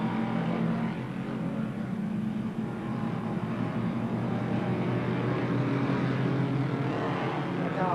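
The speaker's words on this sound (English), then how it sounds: "The car streams into Southern Loop." ERA race cars roar past at Phillip Island Circuit into Southern Loop in wet, spray-filled conditions, a steady loud engine drone holding throughout with a sustained low tonal hum.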